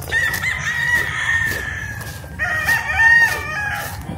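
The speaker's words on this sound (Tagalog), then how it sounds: "Ang daming bird na. Daming manok." Roosters crow repeatedly amid clucking chickens, with long rising calls overlapping one another outdoors at moderate loudness, heard along a town route in San Narciso.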